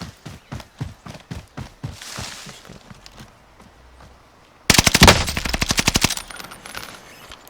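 A Type 11 machine gun in Call of Duty Warzone fires a dense automatic burst of rapid, loud close shots, after a few slower single reports, then it trails off.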